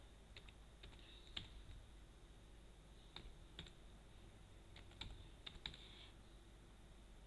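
Keys tapped on a computer keyboard while entering a DOS command, a few scattered clicks and short bursts of typing over a faint steady background hum, no talking.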